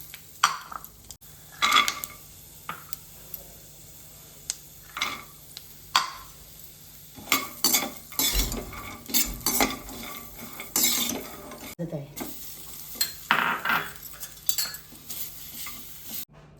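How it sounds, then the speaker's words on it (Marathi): Dry fruits roast in a spoonful of ghee in a pan, with a low sizzle under intermittent scraping and clinking of a spoon against the metal as they are stirred. "एक स्पून तूप आणि ते सगळे ड्रायफ्रूट मी भाजून घेणार"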